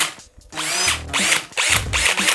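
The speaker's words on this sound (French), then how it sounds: "la fumée qui sort de la perceuse c'est pas normal" An electric drill runs in bursts, whining loudly near the listener, with pauses between pulls of the trigger, while it overheats and smokes.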